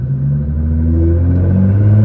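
A 2012 Nissan GT-R Premium tuned to 1300 hp accelerates with a loud, steady low engine drone that climbs slightly in pitch, heard from inside the car with no talking.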